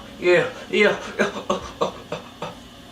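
A person imitates an elk chuckle by mouth, giving a quick series of about seven short, close grunting pulses that start loud and fade, with nothing else heard.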